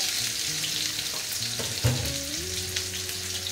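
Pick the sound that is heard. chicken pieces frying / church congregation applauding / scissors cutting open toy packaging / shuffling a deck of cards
chicken pieces frying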